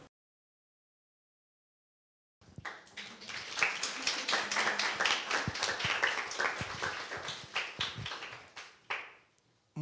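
An audience applauds after a talk on resisting corporate Europe: after a couple of seconds of silence, dense clapping starts, holds steady and fairly close for several seconds, then thins out near the end.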